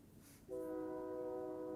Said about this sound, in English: Oh, you can probably hear the train horn.